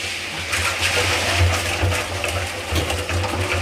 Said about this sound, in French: on va juste rajouter de l'eau